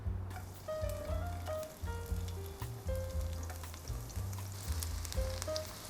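Garlic sizzles and fries in a pan at the start of cooking a seafood capcay, a steady close crackle with light stirring clicks and faint clinks, no voices.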